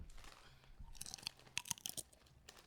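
Crunchy chips being chewed up close, dry crackly bites repeating in an uneven rhythm over about three seconds, loudest toward the middle, with no talking.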